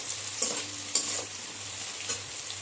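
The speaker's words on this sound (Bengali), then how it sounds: "আদাগুলো জাস্ট একটু কাঁচা কাঁচা ভাবটা চলে যাবে সেইটুকুই ভাজতে হবে" Chopped ginger is stir-fried briefly in a pan for a brinjal, potato and fish curry. A soft, steady sizzle is broken by a few light stirring scrapes, with no voices.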